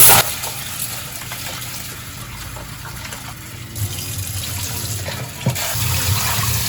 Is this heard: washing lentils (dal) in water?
yes